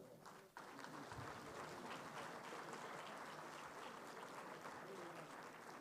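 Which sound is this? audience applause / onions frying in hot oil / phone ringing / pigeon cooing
audience applause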